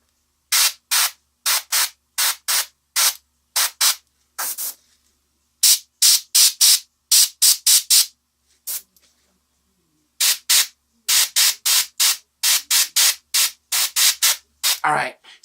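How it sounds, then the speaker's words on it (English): An airbrush spraying ink over a painted miniature turtle lets out rapid bursts of close hissing in quick pulsed groups, with short pauses between runs. "see how I sprayed right over the wrinkles on the back of the head?"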